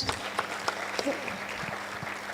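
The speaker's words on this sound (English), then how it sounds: "Please give a clap to Richard." An audience at the 2026 AGM of Kanisa Regulated NWDT Sacco claps for a speaker named Richard, a modest scattered round of hand claps, fairly faint and roomy, with no talk over it.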